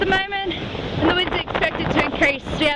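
Strong wind of 17 to 27 knots gusts across a reefed sailboat at sea during Cyclone Chris, roaring and buffeting the microphone with rushing water underneath, while a person talks over the noise.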